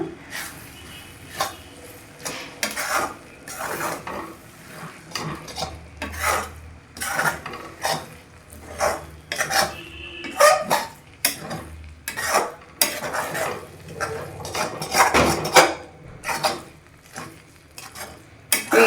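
A spoon scrapes and stirs sweet vermicelli with a spoonful of ghee in a pan, made without milk: repeated close, rhythmic metallic scrapes and clinks with a light sizzle underneath.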